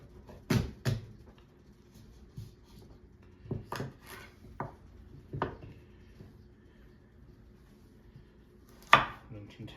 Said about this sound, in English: Now that the carrots are getting a little thick, we're just going to slice them down the middle.